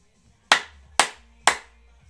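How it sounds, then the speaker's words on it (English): A group claps in unison during a music game, three sharp, evenly spaced claps about half a second apart, crisp and close with quick decays and near silence between. "We'll do some clapping."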